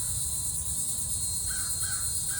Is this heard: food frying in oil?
no